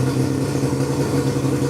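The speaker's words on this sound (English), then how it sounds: "More preparation as the engine was being given a run on this inflatable." An outboard engine on an inflatable raft runs steadily at idle, a constant low droning hum with no pauses, close and fairly loud.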